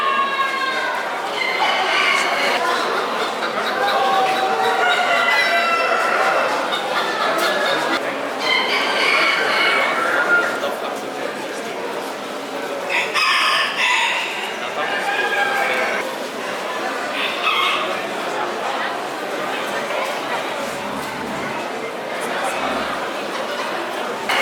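Bantam chickens cluck and crow at a poultry show, a steady dense mix of bird calls under constant crowd chatter and people talking.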